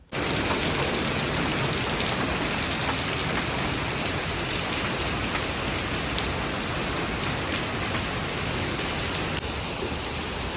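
Steady, heavy rain pours outdoors for the whole stretch, a dense continuous hiss of drops on surfaces, close and loud, with no talking.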